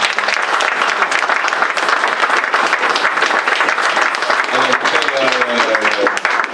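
Congregation at an Easter church service breaks into loud, continuous clapping, dense and close, with a voice speaking over the applause near the end.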